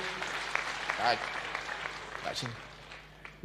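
A stadium crowd at an outdoor church service in Kerugoya claps in a broad, steady wash of applause. Scattered voices carry through it, and it fades slightly toward the end.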